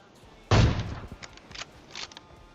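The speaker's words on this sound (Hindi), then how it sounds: "अब मैंने क्या कर दिया, गोली चला दी" Gunfire in PUBG Mobile: one sharp, loud shot followed by several quieter scattered bursts within a couple of seconds, with no talk over them.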